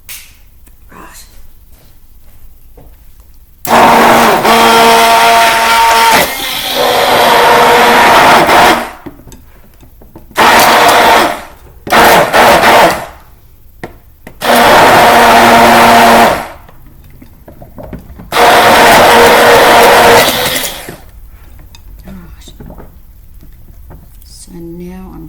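A blender whirs in repeated bursts while mixing uncoloured baby soap at home, loud whining spells of several seconds separated by quiet pauses, with a few short pulses in between.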